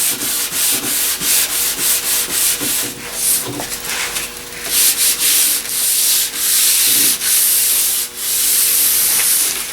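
Walnut wood pieces for a library wall are sanded by hand, a continuous close rasping rub in quick repeated strokes, loud and steady for the whole stretch, with no talking.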